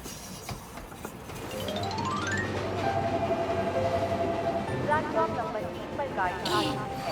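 A cartoon train rolling along rails, its wheels clattering and rumbling steadily louder as it gets going, with rising tones and squeals over the running noise.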